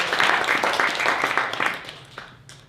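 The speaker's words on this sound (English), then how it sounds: "Give a round of applause" A live magic-show audience bursts into brief applause, dense clapping that tapers off over a couple of seconds.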